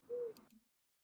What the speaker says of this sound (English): Can you guys hear the owl outside?